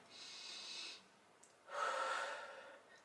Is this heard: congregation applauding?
no